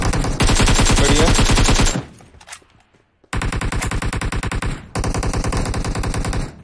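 Rapid automatic gunfire rings out in a battle royale video game, loud and close, in long sustained bursts broken by a short quiet gap.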